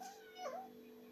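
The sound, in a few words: kitten meowing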